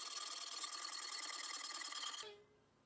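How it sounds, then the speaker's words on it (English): A hacksaw cutting steel rod held in a vise, rapid even strokes in a fast rhythmic buzz, loud and close, stopping abruptly near the end. "then cutting it to length with the hacksaw"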